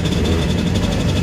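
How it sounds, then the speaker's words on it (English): A pack of racing go-karts runs on track at Buckmore in a 34-kart race, their engines a steady, loud drone. "34 karts on track."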